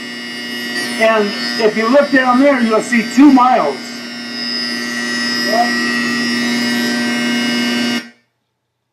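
A klystron in the linear accelerator tunnel at SLAC gives off a loud, steady electrical hum with buzzing overtones. Someone talks over the first half, and the hum continues alone until it cuts off abruptly.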